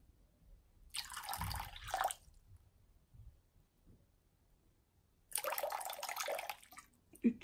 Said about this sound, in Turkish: 350 gram su koyacağım.